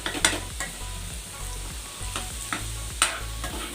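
Potatoes frying on high flame in a pan, flipped repeatedly, with a constant close sizzle and rhythmic metallic scrapes and clacks from the spatula.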